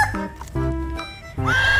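A zebra toy sounds off with a horse whinny, a few shaky neighing bursts ending in a higher squealing call, heard up close and alone.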